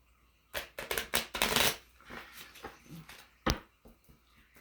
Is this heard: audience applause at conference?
no